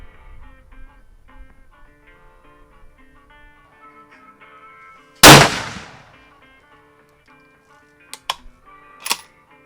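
One sharp, loud shot from a Savage Axis 6.5 Creedmoor rifle at a 100-yard range cracks over a steady background hum, followed by two quick metallic clicks of the bolt being worked.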